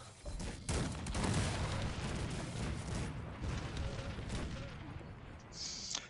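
Dense battlefield gunfire and booming cannon and howitzer volleys roar from a large army clash in the strategy game Cossacks 3, a continuous rumbling barrage of overlapping shots and blasts with no clear gaps.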